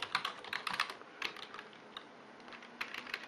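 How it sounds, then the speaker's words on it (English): Quick bursts of key presses as a password is typed on a computer keyboard, soft and close, a light irregular clatter in a quiet room. "So I'll just type my password."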